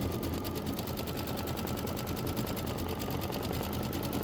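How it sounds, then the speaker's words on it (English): An embroidery sewing machine works a decorative stitch around poinsettia shapes, its needle hammering in a fast, steady mechanical rhythm under a constant motor whir, close and uninterrupted. "Just go ahead and let it stitch. So it's going to do the decorative stitch"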